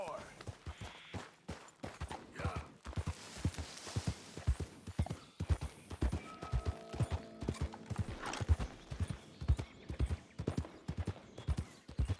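Red Dead Redemption 2 video game horse hooves clip-clopping in a steady, brisk rhythm, close and distinct, with occasional faint mechanical and game sounds around them.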